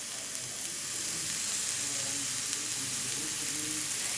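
Food sizzles and fries steadily in a pan for the whole stretch, a dense, close crackling hiss with no talk over it.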